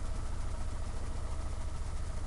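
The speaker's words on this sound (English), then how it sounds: "we just got the engine and the prop all running today" An Atomic 4 inboard engine runs steadily aboard a sailboat in Florida, giving a continuous low rumbling drone with a slight pulsing throb throughout and no voices.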